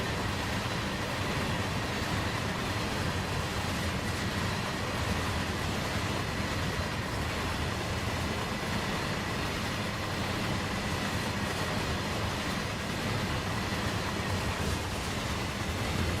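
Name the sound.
heavy freight train in a train simulator video game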